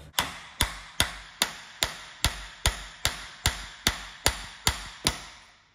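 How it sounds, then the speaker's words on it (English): A small chisel hammered against a seized, frozen nut on a Ferrari 550, thirteen sharp metallic strikes in a steady even rhythm about two per second, close and crisp, each with a short ringing decay. "So I'm sitting here trying to use this little chisel thing."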